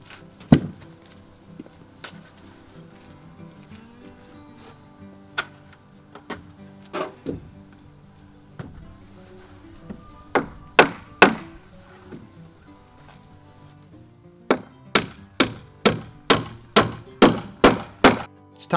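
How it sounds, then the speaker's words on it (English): Hammer blows drive nails into rough cut pine boards, scattered single knocks at first, then a fast, steady run of loud, hard strikes close by. "nail them in place"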